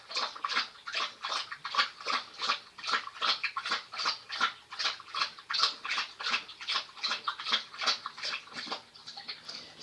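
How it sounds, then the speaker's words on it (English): A dog lapping water in quick, regular rhythmic laps, close and distinct, repeating steadily for about ten seconds. "let me let my dog drink."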